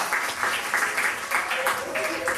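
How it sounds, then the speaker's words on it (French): Studio audience applause on a French TV show, steady clapping over the full stretch, moderately loud and mixed with some voices underneath. "je crois qu'on peut l'applaudir, hein?"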